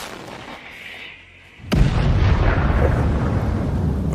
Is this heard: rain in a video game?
no